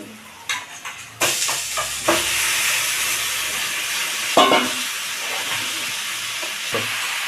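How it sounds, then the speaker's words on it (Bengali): Chicken pieces frying with onions in a pan for a home-style chicken curry: a steady, loud sizzling hiss that starts suddenly and persists, with a few clinks and scrapes of stirring. "পেঁয়াজের সঙ্গে মাংসটাও ভাজা হবে"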